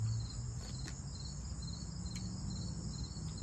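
Crickets and other insects chirp steadily outdoors, a faint continuous buzzing chorus with no voices.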